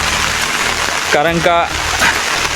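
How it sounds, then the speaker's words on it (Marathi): Heavy rain falls steadily on a village path, a constant hiss with a person speaking briefly over it. "खूप पाऊस पडतोय"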